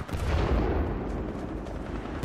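Continuous gunfire in Titanfall 2, a dense, steady roar of shots for a couple of seconds with no break.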